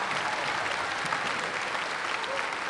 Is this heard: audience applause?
yes